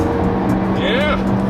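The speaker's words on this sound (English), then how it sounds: "Oh, a little bit of front wheel squeal." The front tire of a 2016 Honda Civic gives a brief, thin squeal during a turn, rising over the steady engine and road drone heard from inside the cabin, with people talking.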